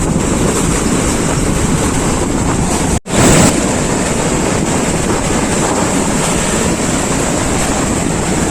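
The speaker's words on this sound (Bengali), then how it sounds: "যেখানে বসে আছি সেগুলো একখানে দেখো ঢেউটা এসে ধাক্কা খাচ্ছে" Sea waves at Mandarmani beach crash and surge in a loud, continuous wash close by, with heavy wind buffeting and a brief dropout midway.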